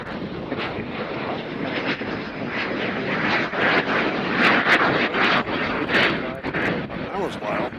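A Southwest Airlines jet departs Nashville International Airport, a loud sustained engine roar with crackling bursts and wind buffeting close to the microphone, under some talk.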